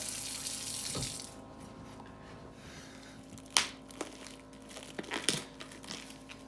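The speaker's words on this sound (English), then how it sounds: "I'm going to give them another rinse because I've touched stuff" Water runs from a kitchen tap while hands are rinsed under it, a soft continuous flow broken by a few sharp clatters and bumps at the sink.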